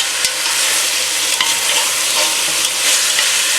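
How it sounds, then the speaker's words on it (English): Beef searing in olive oil while being tossed around a hot pan for shredded beef and rice, a steady close sizzle with faint scraping stir noises and a few sharp clicks, no talking. "we got a nice sear going. And as you can hear, I put a little olive oil in there"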